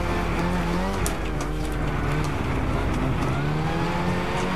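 Car drifting around a Tuscany track in Gran Turismo 6, with a steady loud engine drone and tire noise running through the clip, no pause.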